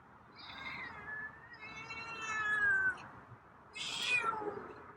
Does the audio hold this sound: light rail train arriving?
no